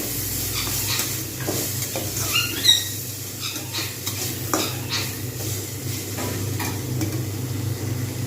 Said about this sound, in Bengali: জাস্ট একটু করে নেড়ে নেবো